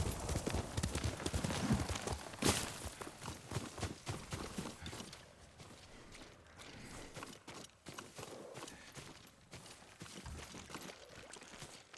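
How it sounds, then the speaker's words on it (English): Horse hoofbeats clip-clop in Ghost of Tsushima, a steady run of faint, close hoof strikes on the ground, louder at first and then softer, with no voices heard. "Yuriko's horse. She can't be far."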